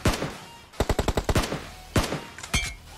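M416 assault rifle fire in PUBG Mobile: a quick, close burst of about eight sharp shots, then a pause and a few more isolated cracks.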